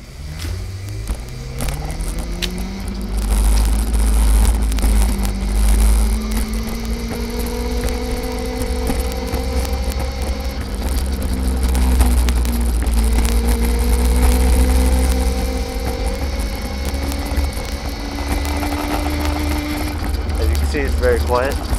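A 1000 W electric scooter being ridden outdoors gives a steady motor whine that rises and falls in pitch with speed, over constant low wind rumble, with no talking.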